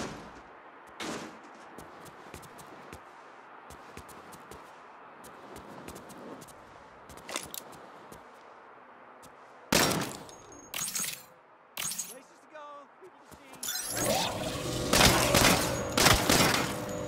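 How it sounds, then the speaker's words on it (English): Shots from the quantum aperture gun hitting live targets in a Saints Row training sequence, scattered sharp cracks with shattering bursts, then a loud sustained crackling barrage near the end, close and prominent. "You'll deploy the aperture and shoot them."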